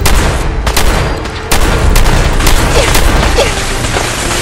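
Gunfire in the modded Fallout 4 video game: a loud, rapid series of sharp shots and booming blasts over a dense, noisy backdrop of combat, with no talk over it.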